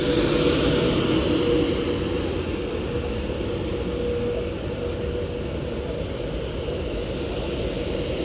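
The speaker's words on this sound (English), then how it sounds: "as this Avanti West Coast Class 390 Pendolino arrives in now" Avanti West Coast Class 390 Pendolino electric train arriving at Runcorn station on the West Coast Main Line, a steady loud rumble of rolling wheels with a faint hum, easing slightly as it slows.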